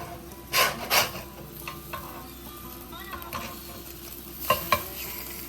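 Freeze-dried egg frying in a pan on an off-grid setup, crisping at the edges: a steady low sizzle runs throughout, broken by a few sharp spatula scrapes and clicks near the start and end.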